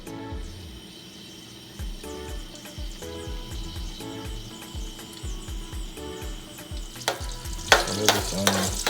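Chopped onions fry in oil for a Nigerian stew, a steady crackling sizzle with repeated low thumps and scraping as they are stirred, growing busier and louder near the end.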